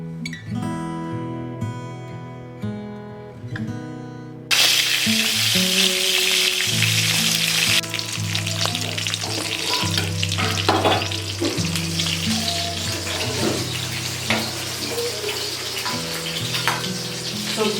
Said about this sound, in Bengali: সবজি বাজার থেকে এসেই মাছ ভাজা করতে শুরু করে দিয়েছি